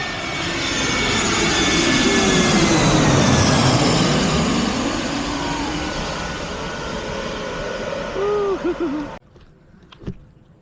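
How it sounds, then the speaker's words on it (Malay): An airplane arrives and passes overhead near a river. Its engine roar swells steadily to a loud peak, then slowly fades as it moves away, with no voices. "Kapal terbang sampai dah"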